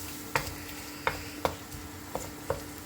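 Chopped onions being sautéed in a pan for a Kerala-style mussel roast, a soft steady sizzle under a handful of sharp utensil taps against the pan at irregular intervals.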